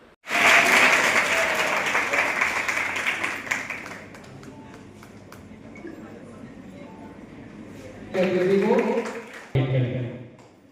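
Loud applause erupts in the hall at a paramedical college convocation ceremony, swelling quickly and then fading over several seconds; people's voices take over near the end.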